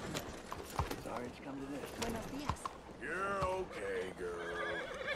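A horse in the video game Red Dead Redemption 2 lets out several loud, wavering neighs and whinnies, mixed with hoof clatter and someone talking excitedly over them.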